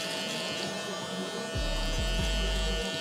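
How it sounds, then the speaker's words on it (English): Electric foil shaver buzzing during a high taper haircut at a barber, a steady loud hum switching on partway through with brief dips as it moves across the hair. "Now I'm gonna go ahead and follow it up with the foil shaver."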